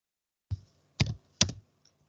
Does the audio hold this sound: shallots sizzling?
no